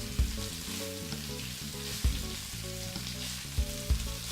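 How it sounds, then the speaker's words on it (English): Jerk spaghetti with vegetables frying in a pan, a steady close sizzle with occasional clanks of a utensil stirring, under music playing in the background. "that's gonna be frying for roughly next 3 to 4 more minutes, then we're gonna keep stirring it"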